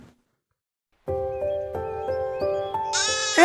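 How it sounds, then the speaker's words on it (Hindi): Lambs bleat in a cartoon story, a sustained layered chorus of sheep-like cries starting after a second of silence and rising to a higher, brighter call at the end, fairly loud and close. "फिर सिम्बा को उन भेड़ के बच्चों के खेलने की आवाज़ आती है"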